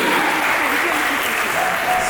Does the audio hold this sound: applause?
yes